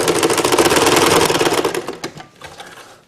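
A sewing machine runs steadily as it stitches pinned quilt block pieces for a nine patch block. The rapid mechanical chatter is loud and close, then slows and trails off into a few separate clicks near the end.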